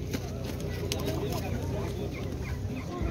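A rooster clucks repeatedly amid a busy outdoor poultry market selling chickens, turkeys and ducks, with people talking nearby and steady crowd noise throughout.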